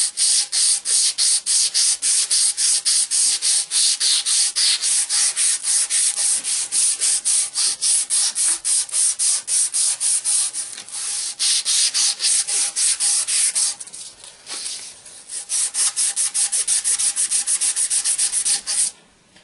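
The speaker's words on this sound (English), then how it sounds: "you take a little bit of emery cloth and kind of remove all the little scratches that I made." Emery cloth rubbed rapidly back and forth over a Chevy starter commutator, a dense, rhythmic scratchy rasp of quick strokes, close and loud, briefly pausing near the end.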